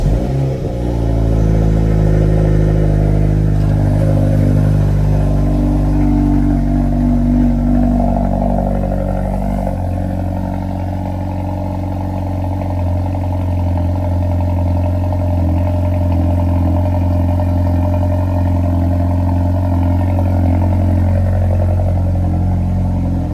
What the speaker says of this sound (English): I'll insert a clip so that way you can hear what the cold start sounds like.